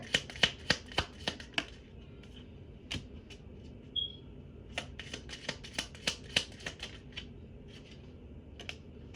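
Tarot cards being shuffled close by in quick bursts of crisp riffling flicks, with short pauses between runs of rapid card snaps.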